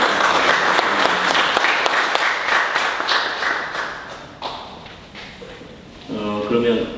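Audience applause at a forum meeting, a burst of dense clapping that gradually thins and fades, followed by a voice speaking over a microphone at the end.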